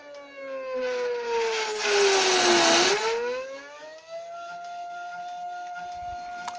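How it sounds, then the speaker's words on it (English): A slow-running stepper motor in a 16mm film scanner whines loudly with steady harmonic tones that sweep down, dip, then rise and hold at a lower buzzing pitch over a broad rasping noise. "when the stepper motor runs slower it consumes more power and makes a horrible noise"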